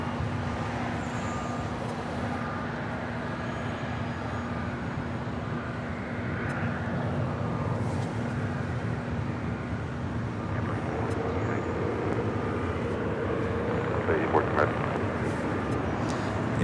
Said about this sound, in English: Coming in from San Diego, California, Delta Connection operated by SkyWest Airlines, flight 3541 in this E175LR.